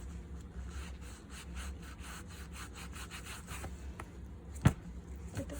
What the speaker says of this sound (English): A little bit of scrubbing, get in all the nooks and crannies.